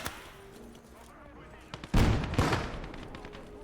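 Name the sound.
mortar fire in a war video game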